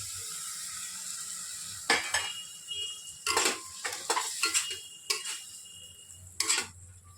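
Boiled mutton liver is stir-fried in a pan with a spatula, giving a string of distinct metallic scrapes and clinks at irregular intervals over a faint low sizzle, close by and without speech.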